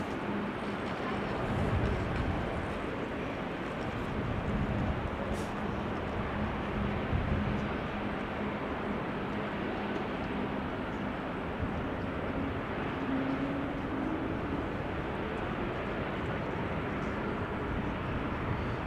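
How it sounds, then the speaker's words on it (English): A three-year-old Embraer E2 jet, registration PH-NXB, spooling up its engines at Amsterdam Schiphol Airport, a broad continuous roar that holds steady and fairly loud, with speech over it. "The E2 now spooling up is 3 years old."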